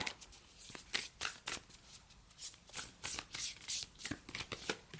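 Oracle cards shuffled by hand in a steady run of quick riffling and slapping bursts, close and fairly loud, with no talking.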